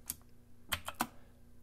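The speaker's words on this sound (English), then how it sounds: "On our keyboard, we're going to hit Shift-D to duplicate." Computer keyboard keys pressed a few times, close and quiet crisp clicks: one isolated tap followed by a quick cluster of three, with faint room hiss between.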